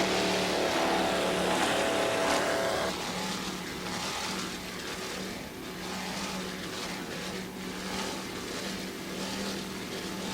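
Racing powerboat driven by two 700 horsepower Mercury engines in the Islamorada Budweiser 100, heard as a distant, continuous engine drone with a tonal whine at first, fading slightly after a few seconds and carrying on steadily.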